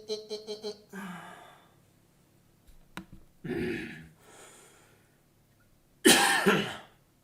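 A few quick taps, then scattered breathy coughs and throat-clearing sounds caused by cat hair, ending in one louder, harsher cough up close.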